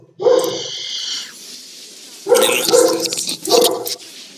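A dog barks loudly and close by, one long sustained bark followed after a pause by two shorter rounds of barking, with no talk over it.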